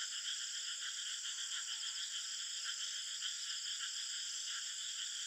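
A frog in the Western Ghats with an orangish-red back and black speckles, calling in a continuous, rapid, pulsing chorus-like trill, steady and moderately loud, with no voices.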